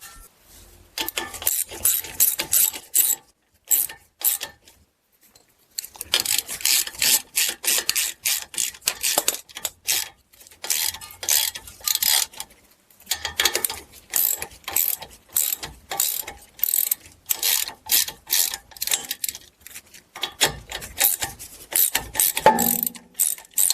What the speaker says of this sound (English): So I'm going to thread a couple longer bolts in there and pull it out the rest of the way.